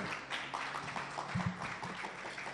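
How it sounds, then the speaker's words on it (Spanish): Audience applause at a medical lecture on botulinum toxin and platelet concentrates, fairly faint clapping spread over a couple of seconds with some background murmur. "Otro fuerte aplauso,"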